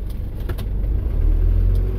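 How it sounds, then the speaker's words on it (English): Car in Napier, New Zealand, going by while another car is pulled over, a close rumbling engine and road noise that builds over two seconds with a few light rattles. "I'm going to pull over and let a car go by."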